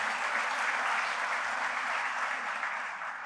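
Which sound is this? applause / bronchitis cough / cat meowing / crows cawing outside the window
applause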